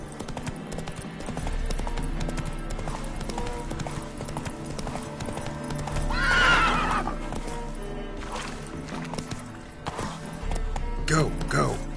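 Roach, a horse in a video game, gallops with rapid, steady clip-clopping hoofbeats throughout, a sharp whinny rising in the middle and another near the end, over a busy background.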